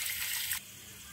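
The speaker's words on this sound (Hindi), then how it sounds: "जब दियों को पानी में डालते हैं तो ऐसी आवाज़ें आती हैं।" Clay diyas are dropped into a pot of water, giving a short rushing, bubbling gush that cuts off abruptly and leaves a quiet room tone. The sound is close and moderately loud, with no talking.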